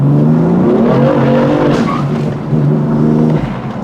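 A BMW M4 drives hard with a sustained squeal of tyres over a loud, rising engine note, continuous and close for the whole stretch, with no talking.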